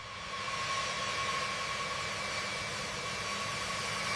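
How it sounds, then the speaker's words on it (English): B-52 bomber jet engines run steadily as the aircraft taxi in a line toward the runway, a loud, continuous broadband roar with a faint high whine, heard alone without talk. "The sequence continues as more bombers join the line, all engines running."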